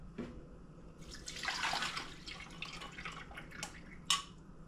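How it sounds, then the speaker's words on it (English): Liquid draining off soaked raisins, a soft uneven trickle and patter of drips with a few brighter splashes, close and fairly quiet. "I'm gonna drain the raisin off in here."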